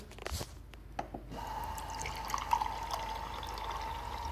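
Water is poured from a tap into a drinking glass, starting with a few splashy drips and then settling into a steady, rising trickle as the glass fills, near and quiet with no talk.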